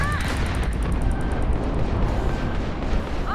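Ship weapons firing in a space combat video game, a dense continuous roar of blasts and rumble that holds steady throughout, loud and close, with no pauses.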